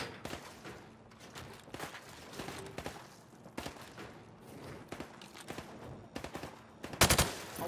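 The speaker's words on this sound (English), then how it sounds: "I want to see you fire from the hip." Hip-fired gunfire in Call of Duty Modern Warfare Remastered, a series of sharp rifle shots in short bursts and singles spread across the scene, ending in a louder rapid burst, with faint footsteps between.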